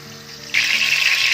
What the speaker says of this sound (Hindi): तो कढ़ाई में जाएगा अभी ऑयल